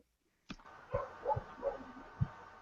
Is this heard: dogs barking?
yes